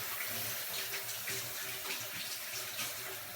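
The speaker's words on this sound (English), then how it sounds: "Just rinse off my green pepper there." Tap water runs steadily over a green pepper being rinsed under a kitchen faucet, a continuous close splashing hiss with no talk.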